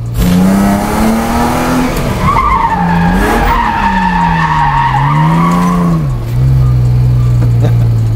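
A drift car skids hard, its tires letting out a loud, sustained squeal that wavers up and down in pitch over the roaring engine, close and continuous throughout.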